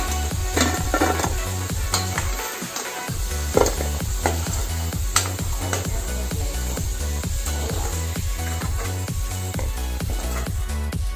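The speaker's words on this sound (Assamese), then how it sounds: "ফ্ৰাই কৰা আলুখিনি তেলখিনিতে কেইটামান জিৰা গুটি দি লৈছোঁ তাৰপিছত পিঁয়াজ দিছোঁ" Cumin seeds and onion fry in a pan of oil left over from frying potatoes for a jackfruit sabji. Loud, steady sizzling continues throughout, broken by regular scraping stir strokes.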